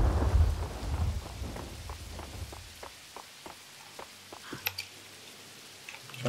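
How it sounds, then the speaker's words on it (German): Rain and thunderstorm in Max Payne 2: loud low thunder rumbles at first, then fading to steady rain with distinct drips and patters tapping at irregular intervals, with no speech. "Das Gewitter haut einen um hier."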